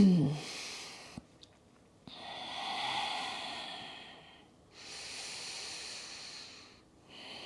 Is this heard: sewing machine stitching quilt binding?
no